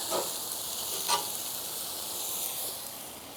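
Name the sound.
yellow onion frying on an old Coleman stove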